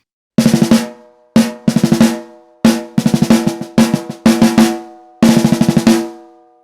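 Freshly tuned snare drum played alone in short bursts of single hits and quick rolls, loud and close with a ringing tonal sustain between strokes.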